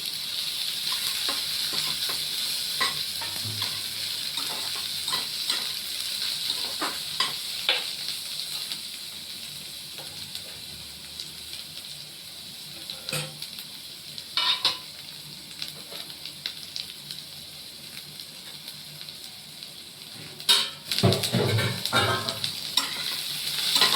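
Grated onion frying in oil and being stirred in a pan, a steady sizzle with scraping stir strokes and occasional utensil clinks against the pot, with no talking.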